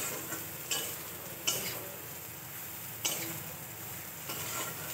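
Soybean chunks fry in a pan with a continuous soft sizzle, broken by several light scraping stirs at irregular moments.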